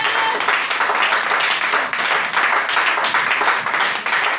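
A church congregation applauding during a worship service, dense sustained clapping from many hands that fills the room for several seconds with little voice over it.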